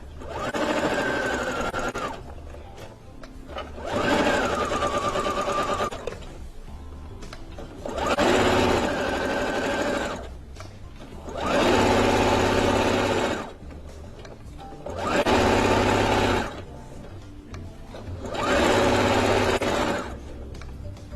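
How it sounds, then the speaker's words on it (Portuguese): Domestic sewing machine running a straight stitch, five or six loud close bursts of rapid whirring and needle clatter separated by short pauses, no talking. "Ponto reto normal da máquina."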